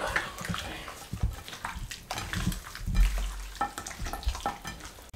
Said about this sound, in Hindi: अच्छे तरीके से इसको मिक्स कर दें।